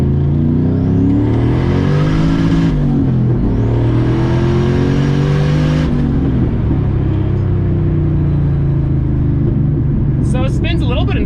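A turbocharged LS-swapped Volvo pulls hard from a second-gear roll, its engine note climbing loud and close, dropping briefly at each shift and then rising again.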